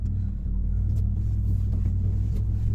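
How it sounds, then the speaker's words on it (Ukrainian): A car drives along, giving a steady low rumble from inside the moving vehicle, continuous and fairly loud throughout. "Машина їде."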